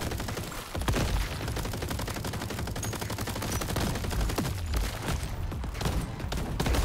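Video game crabs armed with shotguns fire rapid, dense bursts of gunshots, a sustained barrage of sharp cracks with a few heavier booms, with no talking.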